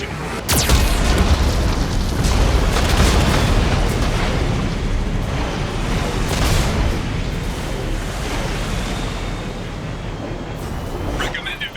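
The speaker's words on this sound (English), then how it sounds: "Warning, Geth cannon is locking on our location." Heavy Geth cannon explosions in the Mass Effect 2 video game, a loud continuous rumbling barrage opened by a sharp blast, with further bursts and crackling debris layered over a deep roar.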